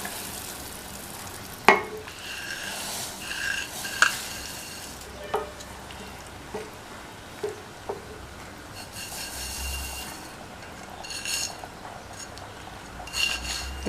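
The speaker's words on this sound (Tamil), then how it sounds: "ஸ்டவ்வை சிம்மில் வச்சுட்டு கொஞ்சம் கொஞ்சமாக ரவையை சேர்த்து கிண்டிக்கலாம்." Semolina stirred into boiling water for upma in a pan on a stove at low flame: rhythmic scraping strokes with occasional sharp clinks over a soft bubbling sizzle, with no talking.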